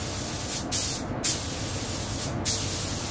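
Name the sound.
spray painting in a rocket system factory paint booth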